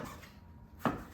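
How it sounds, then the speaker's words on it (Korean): A Heritor Chinese cleaver chops through partly frozen meat: a single crisp, close chop lands on the board near the end of a short, otherwise quiet moment. "이게 잘 썰리면 재밌어 칼질이."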